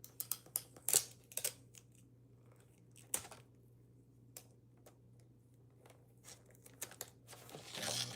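Quiet snips and rustles of scissors cutting a strip of paper close by, with scattered crinkles and soft taps between cuts and no talking.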